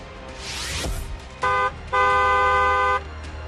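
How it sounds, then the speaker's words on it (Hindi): A car horn sounds twice, a short toot followed by a longer blast, loud and close, after a vehicle whooshes past. "हॉर्न बजाए।"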